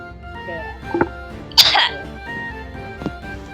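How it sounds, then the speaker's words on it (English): Several people coughing and clearing their throats during a tabletop role-playing session, with one sharp loud cough burst among scattered smaller coughs, heard under ongoing background talk and low ambient sound. "now everybody's coughing."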